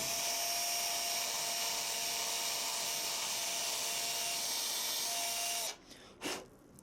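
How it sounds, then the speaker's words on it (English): A power drill whines steadily for several seconds while drilling out holes in the metal legs of a portable, adjustable mini fire spit, then cuts off, leaving a couple of brief, fainter knocks. "I'm going to just drill out the other ones real quick"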